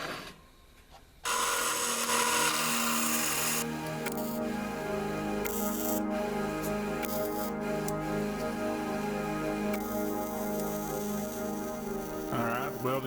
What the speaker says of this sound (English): welding's done